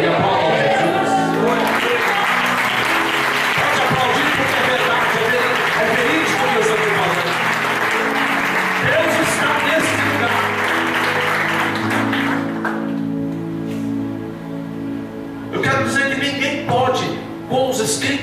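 A church congregation at a family worship service applauds together, a long, loud, steady wash of clapping with voices mixed in, thinning out near the end as a voice and instruments return.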